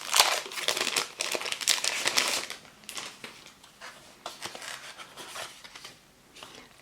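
Paper packaging from a vintage craft subscription box crinkles and rustles steadily as it is handled close by, loudest in the first few seconds and then continuing in softer, irregular crackles.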